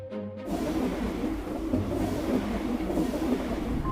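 Train running on rails: a steady, loud rumbling roar with faint rhythmic clatter, starting abruptly after a brief quiet moment.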